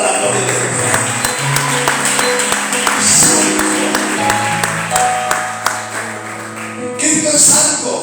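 Audience applause at a church book presentation, dense clapping sustained for several seconds, loud and close, with musical tones and voices mixed in.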